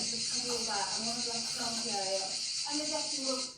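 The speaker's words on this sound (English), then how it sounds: "you can hear the cicadas more than you can hear me" Loud, steady droning buzz of cicadas fills the outdoor air, with a person talking underneath, partly drowned out by the insects.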